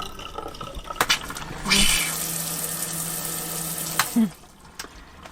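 Water runs from a tap in a converted camper van, fed by a submersible pump on the hot line, with a clatter as the flow starts, a steady gushing stream for a couple of seconds, then it cuts off.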